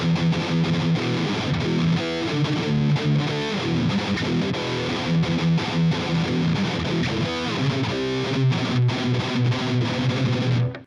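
Distorted electric guitar plays the chorus riff of a song, a loud, dense run of palm-muted, chugging notes with chorus-like shimmer. The riff holds steady and alone for about eleven seconds.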